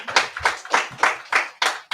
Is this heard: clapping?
yes